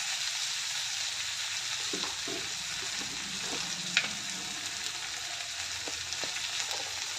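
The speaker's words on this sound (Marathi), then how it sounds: "भेंडी घालून चांगलं परतून घेऊया." Okra sizzling as it is sautéed in a pan for a village-style bhindi sabzi, a steady broad hiss with occasional soft clicks of stirring and one brief sharp tap, no voices.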